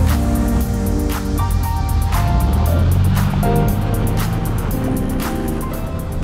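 A 2000 Porsche 911 996 Turbo being driven, with a steady loud engine drone and road noise heard from inside the cabin, pitch shifting slightly as it changes speed.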